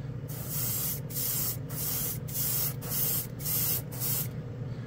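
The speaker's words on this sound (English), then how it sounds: "we'll just do the old spoon test and see how this performs" Master side-feed airbrush with a 0.3 needle spraying paint onto a spoon in about seven steady bursts, each a second or so of broad hiss with short gaps between, close and fairly loud over a low background hum.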